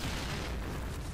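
A grenade blows up in the shooter game Point Blank, a single deep, rumbling boom that fills the whole moment, loud and dense, with no talk.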